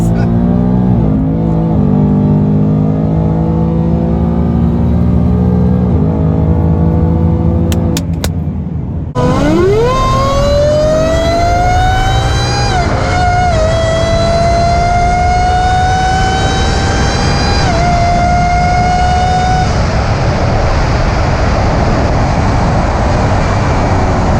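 A supercharged 2018 Ford Mustang GT engine revs hard and accelerates, its pitch climbing through gear changes, loud and close, with a steady roaring drone throughout.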